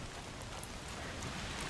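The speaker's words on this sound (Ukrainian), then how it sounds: "Дощ іде." Rain falls steadily in the forest setting of the video game A Plague Tale: Requiem, a soft, even hiss of drops with faint scattered patters and no speech.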